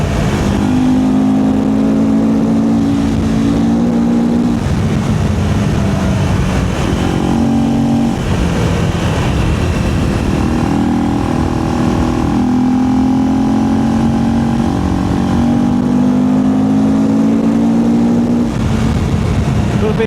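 A KTM 390 Enduro R motorcycle engine accelerates, loud and close, with a rising and falling buzzy drone that climbs through several rev changes under steady wind rush, while a rider talks over it.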